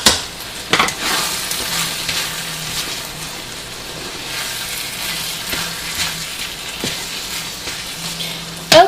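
Ground turkey frying in a pan turned down to lower heat, a steady gentle sizzle with faint crackles and occasional soft clicks, close and continuous with no one speaking.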